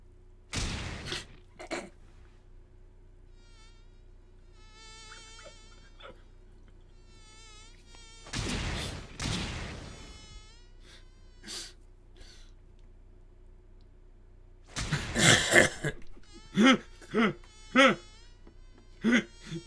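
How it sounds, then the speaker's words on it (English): Loud mosquito buzzing from an anime scene comes in short bursts separated by quiet gaps, mixed with brief sharp sound effects and vocal noises such as gasps. "That's a loud mosquito."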